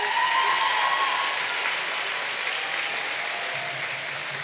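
A graduation audience applauds its valedictorians and top scholars, steady dense clapping from a large crowd that holds loud and even throughout, with no voices over it.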